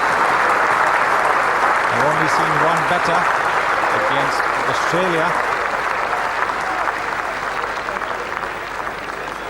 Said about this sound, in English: the Indian team joining in the applause